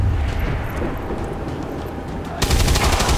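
Gunfire in the turn-based strategy game XCOM 2 opens with a low rumbling burst. A sharper, louder volley of rapid shots follows near the end, and no one speaks.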